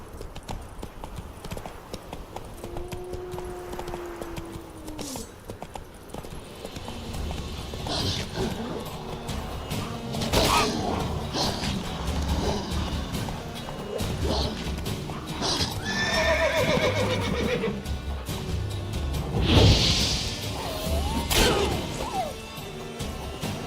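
Roach the horse gallops in The Witcher 3 with rhythmic hoof clip-clops and several whinnies, set against game music and crashing effects, with a voice speaking briefly.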